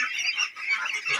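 Khaki Campbell ducks on a farm quack and honk in a continuous, fairly loud chorus of nasal calls with no pauses, several birds calling close by at once.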